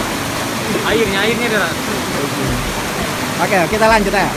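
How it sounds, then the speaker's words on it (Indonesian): Rushing mountain stream water roars as a steady broadband wash on a hiking trail up Mount Bulu Seme, with people talking over it at intervals. "Airnya deras."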